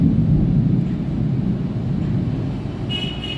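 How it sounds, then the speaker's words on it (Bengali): Thunder from the first rain of the season, a deep continuous low rumble rolling steadily for several seconds, loud and close, fading slightly near the end with a faint high whine. "শুনতে পাচ্ছ মেঘ ডাকছে"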